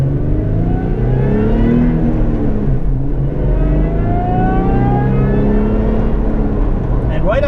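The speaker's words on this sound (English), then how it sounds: "right off the bat, you definitely notice the difference the supercharger makes." Supercharged 2007 Toyota FJ Cruiser with a six-speed manual, engine droning steadily while driving at moderate pace, pitch rising and falling gently with light acceleration, loud and continuous from inside the cabin.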